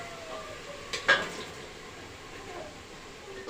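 Potatoes are stirred into a spicy gravy in a pan: a quiet low simmer with a couple of brief clinks and scrapes of a utensil against the pan near the middle, close and soft.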